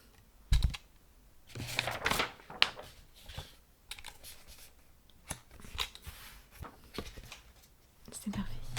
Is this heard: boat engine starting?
no